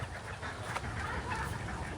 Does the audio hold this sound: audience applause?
no